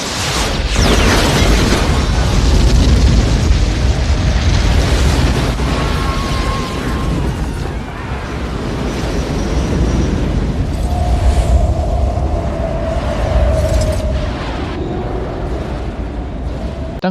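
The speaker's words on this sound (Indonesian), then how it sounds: "kapal alien tersebut menembakkan laser yang dampaknya setara nuklir sampai hampir mengenai" A massive film explosion from an alien ship's laser blast of nuclear force strikes a city, a loud, sustained roaring rumble with crackling debris that slowly settles but never fades away.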